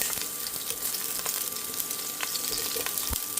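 Onions sizzling in a little hot oil in a pan for beef sinigang, a close steady crackling fry with scattered pops and a low knock near the end, no voices.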